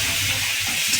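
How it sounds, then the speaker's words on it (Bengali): Tomatoes fry in a pan with browned onions, giving a steady, close hiss of sizzling oil for a brief moment. "এবার টমেটো দিয়ে দিলাম। টমেটো যতক্ষণ না আবার সেদ্ধ হয়, যতক্ষণ না পেঁয়াজের সাথে মিশে যায় ততক্ষণ ভাজতে হবে।"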